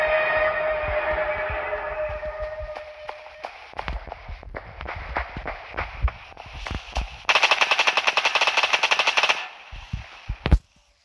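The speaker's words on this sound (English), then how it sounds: "Hold on, I hear gunshots." Rapid machine gun fire in a video game comes in repeated bursts of sharp cracks. The bursts start scattered and build to a long, loud, sustained volley near the end, with no talking.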